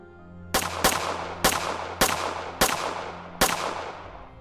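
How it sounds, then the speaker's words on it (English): Six sharp gunshots fire in quick, slightly uneven succession, each a loud crack with a short decaying tail. "Multiple gunshots rang out, 5, 6, rapid"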